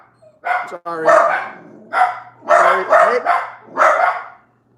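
A dog barks in several loud, bursty runs, a few yips mixed in, close by in a backyard, with a low steady hum underneath.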